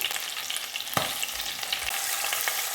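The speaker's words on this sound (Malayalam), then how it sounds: "ഇനി രണ്ടാമത്തെ ചിക്കൻ പീസസ് കൂടെ നമുക്ക് ഈ എണ്ണയിൽ തന്നെ വറുത്തെടുക്കാം." Close, steady sizzling and crackling of chicken pieces frying in hot oil, with a couple of soft stirring knocks.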